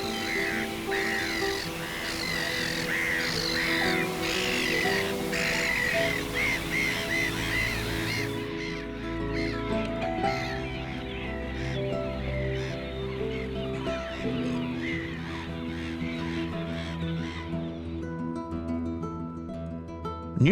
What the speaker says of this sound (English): Where the seagulls eagerly take up position.